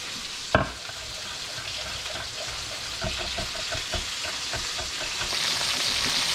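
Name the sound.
orange chicken pieces frying in a pan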